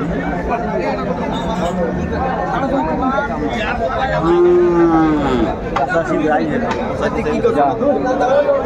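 Cattle at a bull livestock market, a single low moo rising out of busy crowd chatter midway, with people talking and bargaining close by throughout.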